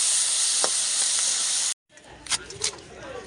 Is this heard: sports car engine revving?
no